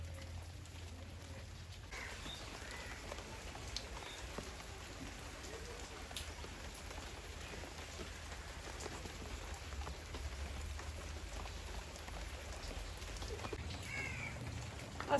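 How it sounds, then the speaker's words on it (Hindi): Steady, soft night rainfall in a village patters continuously on surfaces, with occasional distant crow caws and a low background hum. "रात की बारिश हो रही है और सारी रात की बारिश लगातार हो रही है और रुक नहीं रही।"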